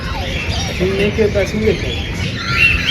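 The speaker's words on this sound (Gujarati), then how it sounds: "આમાં પોપટ છે પોપટ વધારે છે" Several short parrot calls and chirps rise from the bird section of Sarthana Nature Park in Surat, over a noisy, crowded background with people talking nearby.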